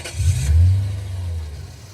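A mid-sized car engine revs hard as the car pulls out, a loud throaty surge that holds and slowly eases off over two seconds.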